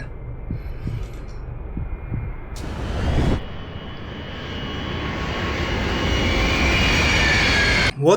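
Plane engine in the Max Payne 3 video game: a low roar that builds into a loud, steady jet-like rush, broken by a sharp crack midway and a sudden cutoff near the end, with a few soft thumps early on.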